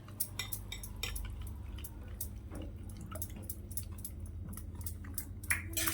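A spoon clinks and taps against a cup while milk powder is stirred into cold milk for fresh coconut ice cream, a steady run of small metallic strikes close by with a low background hum.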